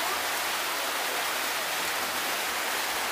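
Heavy rain pouring down at Pasar Paniki market in Manado, North Sulawesi, a dense, even hiss of falling water that runs steadily throughout without any talk.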